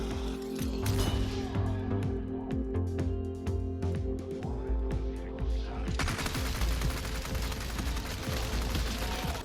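Rapid, continuous bursts of Chicago Sweeper machine-gun fire in the Resident Evil 4 Remake video game, dense and loud over a droning game soundtrack, with a brief shift in the mix partway through.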